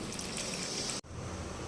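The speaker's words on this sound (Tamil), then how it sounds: "தண்ணி கொஞ்சம் சேர்த்துக்கலாம்." Water pouring into a pan of spicy pasta sauce with ginger-garlic paste, tomato, salt and garam masala, a close, continuous splashing rush that briefly cuts out near the middle before resuming.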